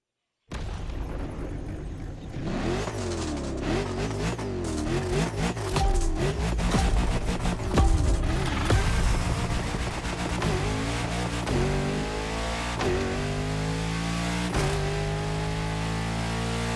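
Luxury car engine in The Crew Motorfest, a loud sustained drone that revs and rises through the gears, with repeated upshifts and a steady roar throughout.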